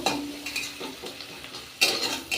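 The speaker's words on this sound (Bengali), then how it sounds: "শাকটা এখন ভেজে নেব" Leafy greens fry in oil in a pan, a close sizzle broken by stirring scrapes and light utensil clatter, with a louder burst of hissing near the end.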